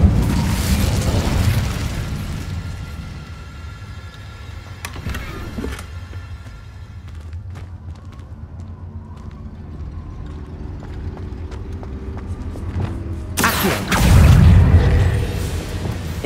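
A fire spell cast in Hogwarts Legacy erupts in loud booming bursts, one early and a stronger, closer blast near the end, over a steady rumbling game background with no talking.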